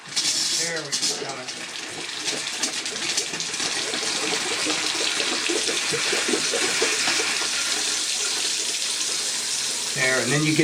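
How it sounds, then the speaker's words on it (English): Household hot water faucet opened while refilling the pressure lines: water gushes and splutters steadily, interrupted by bursts of escaping air. It sits up close, with a voice speaking briefly near the start and again at the end. "go to any faucet in the house, doesn't matter where it's at, and open up the hot water so that you get the air out of"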